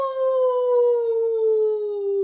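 A person imitates a wolf howl for the full moon: one loud, sustained, steady-pitched vocal howl that slowly falls in pitch, close and alone.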